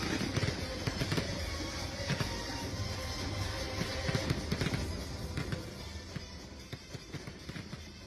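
Dense, continuous crackling and popping of fireworks going off without pause at a wedding celebration in India, a busy rattling barrage heard from a moderate distance.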